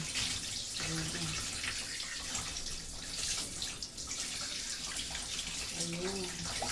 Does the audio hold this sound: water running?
yes